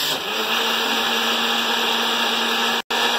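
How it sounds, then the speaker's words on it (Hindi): A kitchen blender runs steadily at close range while making lassi, a loud continuous whirring drone that cuts out briefly near the end, then resumes. "ये और ये अब हम ब्लेंड कर देंगे"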